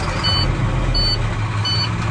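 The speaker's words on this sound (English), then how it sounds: "I'm going to clutch down, turn my engine on, so that I can rebuild pressure." A diesel truck engine idles steadily and loudly during a pre-trip inspection, with a continuous low rumble and a faint beeping that repeats at regular intervals over it.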